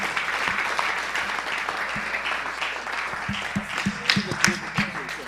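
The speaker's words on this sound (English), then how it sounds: "Let's give him another hand clap." Church audience applauding at a mega conference, steady clapping sustained throughout with a few sharper claps rising near the end, mixed with crowd noise.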